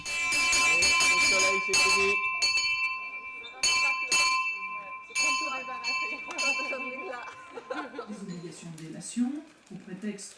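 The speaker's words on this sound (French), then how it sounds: "Cette cloche annonce le début des conférences et c'est en général le directeur du colloque qui l'actionne." A hand bell rung at a colloquium in Cerisy to open the conferences, bright repeated clanging that rings out loudly near the start and recurs in bursts, with a voice talking over the later part.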